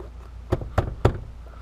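A plastic door card trim piece on a Mazda 6 being pushed and clipped back into its holes, three quick, close knocking snaps evenly spaced.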